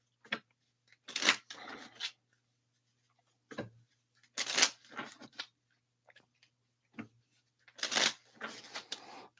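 Gypsy Witch fortune telling playing cards are shuffled in three close, quiet bursts of crisp riffling and flicking, separated by short pauses of near silence.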